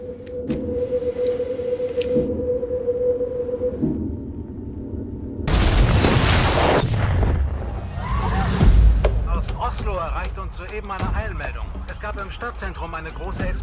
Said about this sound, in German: Stadtzentrum eine große Explosion